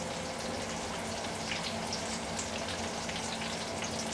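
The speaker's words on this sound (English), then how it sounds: "Well, those batata vadas are frying rather nicely." Batata vadas frying in sunflower and rice bran oil at a streetside vada pav stall, a steady, even sizzle and crackle of hot oil with no talking.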